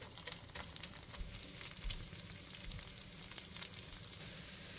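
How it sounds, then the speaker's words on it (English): Soft, steady sizzling of split chickpeas frying in a pan, with faint crackles and occasional scraping stirs, quiet and close. "Now we are in the frying process"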